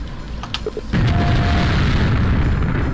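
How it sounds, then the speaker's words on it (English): Grenades explode during a video game deathmatch, opening with a few sharp pops and then a sudden loud boom that becomes a sustained roaring rumble, heard on its own without speech. "Just grenades bouncing everywhere."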